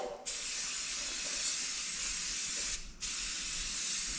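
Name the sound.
spray paint being sprayed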